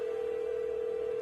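In the Minecraft Dungeons & Dragons DLC video game, an in-game phone call gives off a steady, continuous electronic tone, even in level and heard alone.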